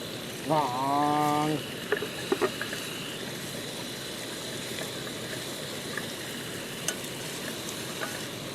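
Tomatoes sizzle and crackle in a hot pan for paneer masala, with stirring scrapes; a short voiced sound comes first, then a steady, fairly close frying hiss continues.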